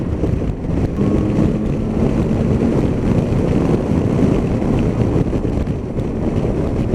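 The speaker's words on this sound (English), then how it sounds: "There's a bit more wind as I pick the speed up." Steady loud wind roar buffets the microphone while riding a Yamaha Tracer 9 motorcycle with its screen in the low position, a constant broadband rush with the engine buried underneath and no talking.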